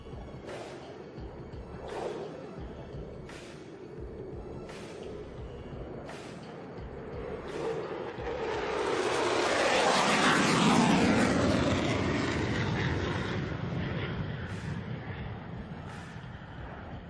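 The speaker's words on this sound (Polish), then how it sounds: "Z prawej strony F-16 i High Speed Pass." An F-16 fighter jet roars in and sweeps past in a high-speed pass at the Radom 2023 air show, the loud rushing swell peaking midway and then falling away over steady crowd noise.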